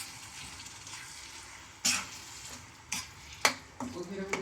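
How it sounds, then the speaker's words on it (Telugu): Brinjal pachadi mixture being stirred in a pan, soft scraping and a few sharp spoon knocks against the metal over a low sizzling background, no clear talk. "ఇలా ఇలా నీట్గా మిక్స్ చేసేసుకోండి"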